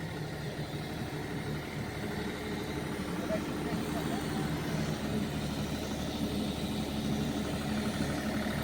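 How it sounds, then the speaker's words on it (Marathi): A generator runs at a large tower site during a power cut, a low steady engine drone throughout, with people talking over it. "जनरेटर चालू झालेलं आहे."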